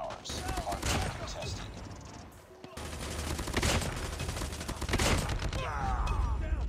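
Rapid automatic gunfire in Call of Duty Mobile, dense bursts of shots rattling almost continuously with a brief pause midway, loud and close, with someone talking faintly underneath.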